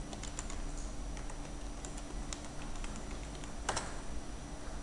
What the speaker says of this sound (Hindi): उसमें हम यूज़र नेम और पासवर्ड एंटर करेंगे।